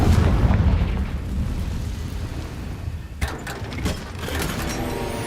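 A Confringo explosion spell in Hogwarts Legacy, a loud booming blast with a low rumble that fades, followed by crackling debris and smaller bursts.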